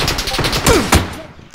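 Video game gunfire, a quick burst of several sharp shots in rapid succession, loud and close, ending in a brief pause.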